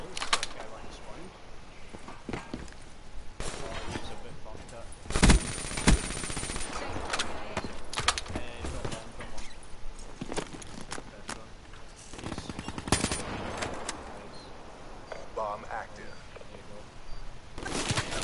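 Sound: gunfire in a video game

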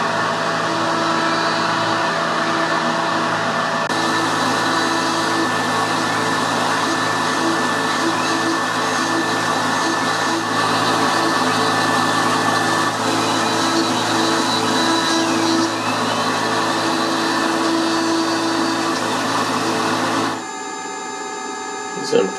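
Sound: Tormach 770MX CNC mill cutting a Santa stocking holder

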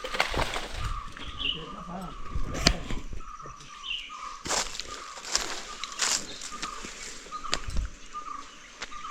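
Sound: birds calling

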